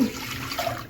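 A brief, close splash and gurgle as water is poured into a pot of drumstick sambar.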